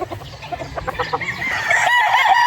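Chickens and roosters at a poultry farm, a rooster crowing loudly and close over steady clucking from the flock, with the crow swelling into a long sustained call near the end.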